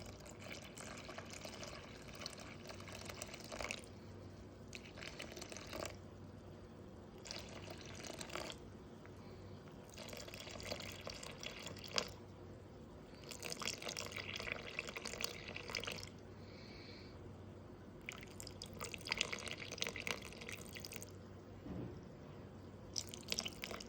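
Lukewarm water is poured into a bowl set on a kitchen scale for sourdough bread dough, faint splashing and trickling in several separate bursts with pauses between, quiet and close.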